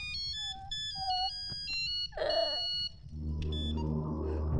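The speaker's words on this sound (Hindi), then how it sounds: "अरे क्या बिरयानी, कब से फोन कर रहा हूँ तुझे" A phone ringtone plays a repeating electronic melody of bright tones for about two seconds. A short burst of other sound follows, then a low, loud rumbling bed of music or noise takes over.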